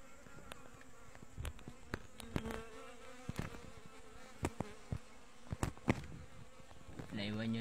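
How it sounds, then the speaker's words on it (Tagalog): Wasps swarming at a nest inside a forest, a dense continuous buzzing hum with individual insects zipping past close by, faint background voices in the woods. "Gahanap kami ng pukyutan kaso nadaanan namin laywan."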